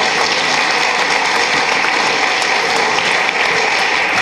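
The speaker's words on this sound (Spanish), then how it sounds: "aplauso para ellas" Audience applause at a reflection circle gathering, a steady dense roar of clapping at full loudness that holds unchanged for about four seconds.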